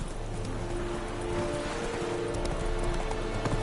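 Geralt's horse Roach gallops in The Witcher 3, a dense, steady drumming of hoofbeats up close, continuous and fairly loud for a few seconds.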